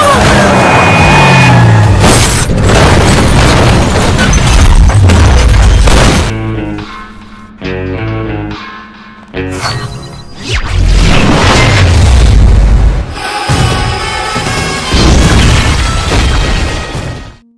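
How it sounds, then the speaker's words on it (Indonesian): A gas cylinder explodes during a fight scene in an Indian film, with loud booms, crashes and whooshes set amid dramatic music and swelling bursts of sound. "Jiwan membuat tabung gas yang berada di belakang Rawan meledak dan mengakibatkan Rawan mati"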